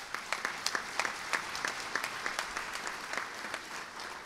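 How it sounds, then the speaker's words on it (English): Applause from an audience at a Chicago Bar Association annual meeting, a steady wash of many hands clapping at moderate distance, fairly soft and continuous throughout, with no voices. "And I know Maggie Hickey and Andrew Vail are applauding that one"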